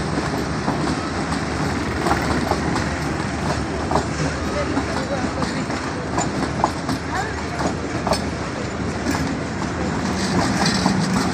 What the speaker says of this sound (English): Khyber Mail Up has arrived from Karachi.